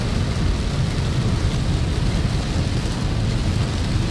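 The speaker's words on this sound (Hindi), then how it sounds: "बहुत हैवी बारिश हो रही है" Heavy rain pours down on the Indore–Ahmedabad road near Godhra and Dahod, where water floods the roadway and slows a vehicle; a dense, steady roar of rainfall with a deep rumbling undertone continues without a break.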